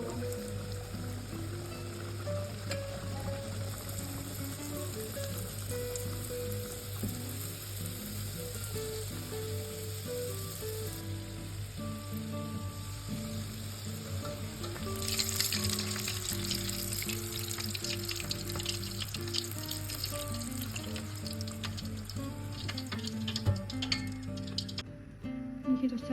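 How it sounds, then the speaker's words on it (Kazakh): Chebureki pastries fry in bubbling hot oil, a steady sizzle under a low hum that grows louder and crackly partway through as more go in. "Енді осыны қызып тұрған майға салып, пісіріп алатын боламыз"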